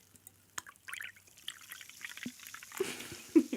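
Sparkling water poured out of a freshly opened soda can, with soft trickling and small splashes that grow a little louder toward the end, close by and quiet, with no talking over it.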